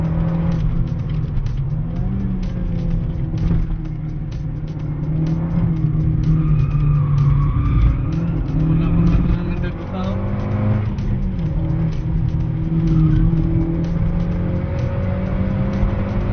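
A car slides sideways and spins on a track, its engine revving hard and tires squealing in a loud, continuous, wavering roar, while people talk over it inside the car.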